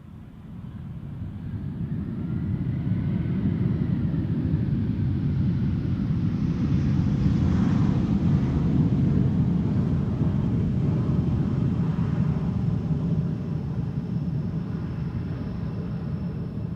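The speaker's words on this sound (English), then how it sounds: "Iberia Express flight 3722 arriving from Madrid in España. A320, 21 years old." A 21-year-old Iberia Express Airbus A320 arriving at Amsterdam Schiphol Airport, a loud sustained jet roar that swells and lingers at close range, broad and rumbling, with no voices over it.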